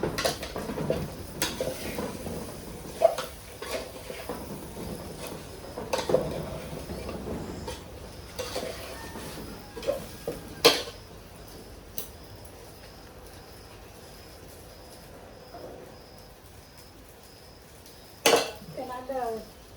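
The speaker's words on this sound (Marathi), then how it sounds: "पातेल्यात कढईत हलवा येत पण हे हलवा येईना" Spoon scraping and knocking against a pot while food is stirred, with occasional sharp clinks and a soft sizzle underneath; a voice talks intermittently.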